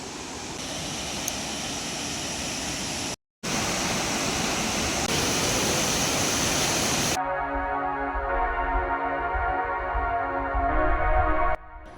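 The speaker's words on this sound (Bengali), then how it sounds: "সবুজে ঘেরা জঙ্গলের মধ্যে দিয়ে উপর থেকে রাশি রাশি জল নিচে পড়ছে। সত্যি এই ওয়াটারফলটাও খুব সুন্দর।" A forest waterfall in Jharkhand pours water down from a height, giving a loud, continuous broadband rush with a brief cut partway through, then a change in tone in the later part.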